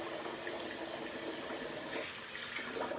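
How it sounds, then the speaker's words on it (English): Water poured into a shaving bowl, a soft continuous trickle and splash at low volume, close by with no talking. "I think I need to get a little bit more water in this."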